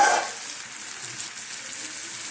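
Snake gourd fries in a pan for a snake gourd and potato curry, giving a steady, bright sizzle that holds evenly for a couple of seconds with no talking.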